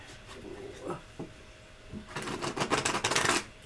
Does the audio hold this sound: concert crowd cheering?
no